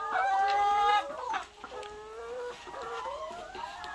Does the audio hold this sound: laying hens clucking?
yes